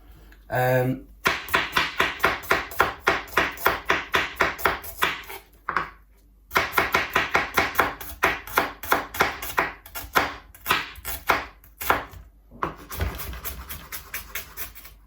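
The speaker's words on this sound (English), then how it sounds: "So if we just finely slice the shallots first." A knife finely slices shallots on a chopping board in a fast, steady run of crisp taps, broken by a few short pauses, loud and close.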